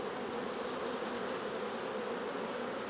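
Dense, steady buzzing of many honeybees crowded on a nucleus hive frame, a continuous close drone without pauses or voices.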